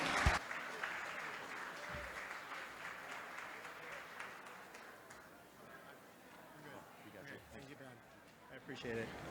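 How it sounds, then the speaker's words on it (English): Applause fills the room at a Miriam's Kitchen charity gala, loudest at first and then thinning into a softer, fading patter as a voice begins speaking over it. "Give them a round of applause, everyone."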